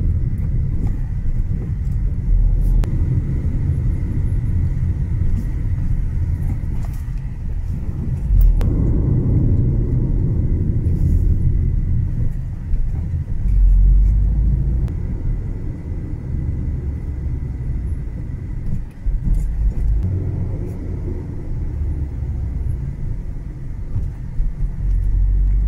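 A car crawls in first and second gear along a rough bush road through natural bushland, its engine rumbling low and steady throughout, with small bumps and knocks from the road surface.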